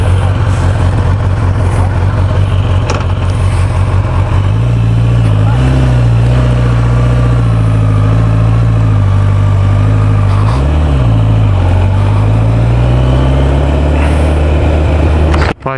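A 2015 Kawasaki Ninja ZX-10R ABS 1000cc sport bike runs loud and close, its deep, steady engine rumble holding at idle with a few slight swells in pitch throughout.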